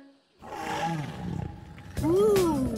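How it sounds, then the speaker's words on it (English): Cartoon dinosaur roars ring out in a children's animated show, a growling roar with rising and falling tones followed by a louder, sweeping second roar, fairly close and prominent. "Ooh, I hear dinosaur roars."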